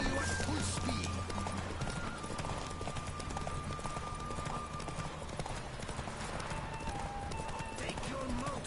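Horse hooves clip-clop at speed in The Witcher 3 as the mount is pushed to full gallop, steady drumming hoofbeats over game music and ambience, with a brief whinny.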